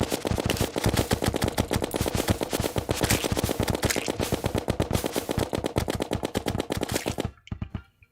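Rapid automatic gunfire from a weapon in Terraria, a dense continuous stream of shots lasting about seven seconds before cutting off abruptly.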